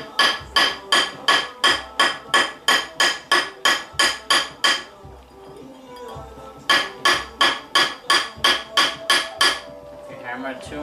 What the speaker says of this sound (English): If you hammer it too much in one side more than another, it will not get round.